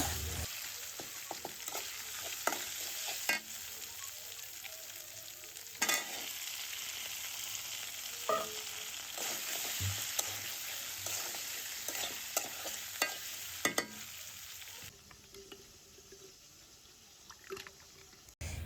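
Pieces of country chicken roast sizzling in spice paste in a pan, with steady frying hiss throughout, punctuated by occasional clanks and scrapes of stirring, close and moderately quiet.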